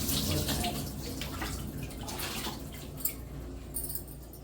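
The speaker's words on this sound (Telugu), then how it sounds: "మనం ఇలా పొట్ట మీద నీళ్ళు పోసేటప్పుడు ఏంటంటే ముక్కులోకి నోట్లోకి వాటర్ పోకుండా గడ్డం పైకి అని చెప్పేసి పట్టుకుంటే నీళ్ళు అయితే పోయాలంట" Water poured over a baby during a traditional oil bath, a soft continuous splashing and trickling that fades slightly toward the end, with a couple of faint knocks.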